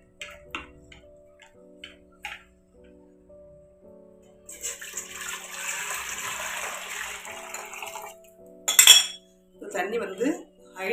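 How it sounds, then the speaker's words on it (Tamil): A few light clinks of kitchenware, then mango juice pours steadily into a metal pot for several seconds, followed by more clatter and knocks. "மேங்கோ ஜூஸை ஊற்றிடலாம்."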